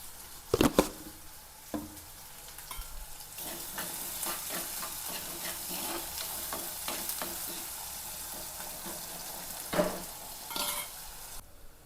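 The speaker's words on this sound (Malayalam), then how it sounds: "അപ്പോൾ നമ്മുടെ ഉള്ളിയൊക്കെ ഒന്ന് മൂത്തിട്ടുണ്ട്." Onions frying in a pan with green chillies and salt, a steady close sizzle with occasional stirring scrapes and a few louder clatters near the start and toward the end.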